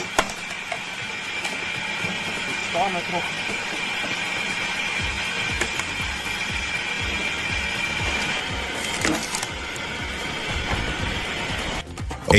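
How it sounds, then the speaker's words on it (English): A motor-driven reduction gear cone log splitter with a gearbox and spinning cone bores into a block of raw wood, giving a continuous loud grinding and ratcheting clatter with occasional sharper cracks. "A block of raw wood meets the reduction gear log splitter."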